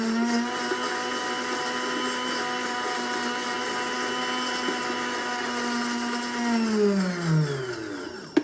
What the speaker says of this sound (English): The motor in this machine is particularly annoying.